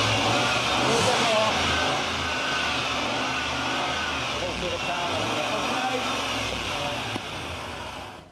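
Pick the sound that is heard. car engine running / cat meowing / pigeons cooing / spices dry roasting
car engine running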